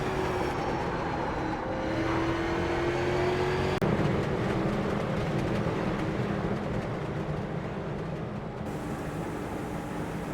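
Street stock race cars circle the Bullring oval in the iRacing simulator, their engines forming a steady, loud droning roar throughout with no voices.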